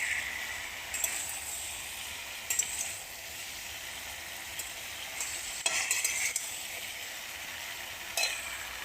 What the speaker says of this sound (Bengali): নেড়ে আর জল ঢেলে দেবো